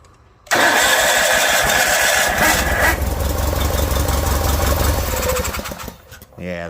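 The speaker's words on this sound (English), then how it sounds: "this motor really does run good" A John Deere 318 lawn tractor engine cranks and catches abruptly, then runs loud and close with a rough, steady mechanical chatter for several seconds before dropping off near the end.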